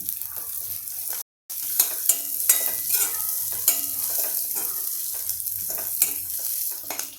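Capsicum, cabbage and other vegetables for thukpa are stir-fried over full flame in a pan, a constant bright sizzle broken by quick repeated scraping strokes of the spatula, close and fairly loud, with a brief cut near the start.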